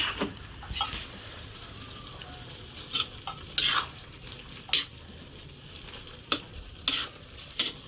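A utensil stirs vegetables frying in a pan while cooking pinakbet, giving sporadic sharp scrapes and clatters over a faint sizzle, close by and without talk.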